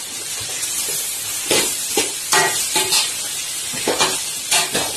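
Chicken roast is stirred in a frying pan, a bright continuous sizzle broken by repeated scraping strokes of a spatula, close and fairly loud with no talking.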